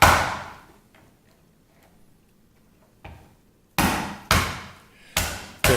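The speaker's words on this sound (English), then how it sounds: "We also crack the part that's attached to the claw." Cooked Maine lobster claw knuckles are cracked open. A sharp crack comes first, then a quiet gap, then a quick run of four or five close, loud snapping cracks, with no talk.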